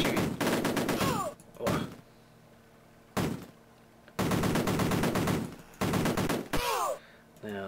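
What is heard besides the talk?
soldiers shooting in the Amiga video game Cannon Fodder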